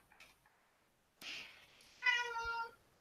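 A cat meows: a short breathy call, then a clear, drawn-out, tonal meow, close and fairly quiet against near silence.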